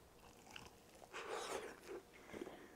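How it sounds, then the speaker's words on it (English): Bite into oven-baked pork spare ribs pulled clean off the bone: faint, close crunchy tearing and wet chewing over a few seconds, quiet and alone with no talking. "see how clean of a bite we get off the bone"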